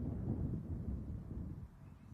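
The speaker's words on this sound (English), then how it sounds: "Conditions are windy." Wind buffets the microphone at an outdoor cricket ground on a sunny evening, a low rumbling gusty noise that swells and eases over a couple of seconds.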